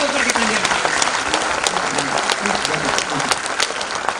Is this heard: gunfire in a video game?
no